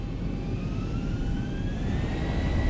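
Jet engines of a Zibo 737-800 in the X-Plane 11 flight simulator spool up toward takeoff thrust, a loud continuous roar with a rising whine climbing in pitch.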